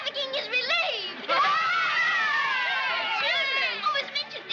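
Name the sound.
crowd cheering in a film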